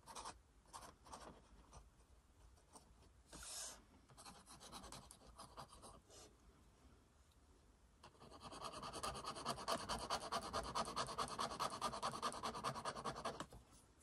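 A Pentel Tradio pen scratches across paper, faint at first in short scattered strokes, then in steadier, denser scribbling toward the end, quiet and close with no talking.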